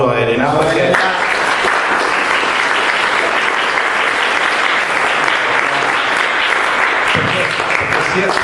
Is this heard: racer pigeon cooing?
no